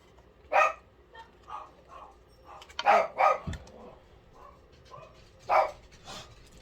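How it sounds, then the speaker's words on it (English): A few dog barks ring out at irregular intervals, moderately close, with quiet pauses between them and no talking. "Dogs are barking."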